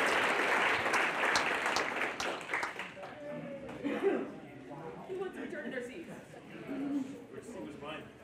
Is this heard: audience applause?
yes